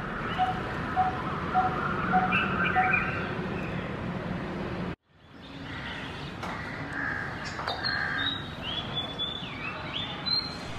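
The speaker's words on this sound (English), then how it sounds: "What you heard just now was the tweet of a fantail." A fantail bird in a tree gives a few faint, short high tweets in the second half, over soft rumbling background noise and other scattered bird calls.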